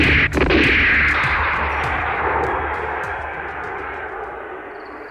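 A gunshot sound effect in a Bengali suspense audio story: a sharp, loud blast at the start, then a long rumbling decay that slowly fades, with no voices.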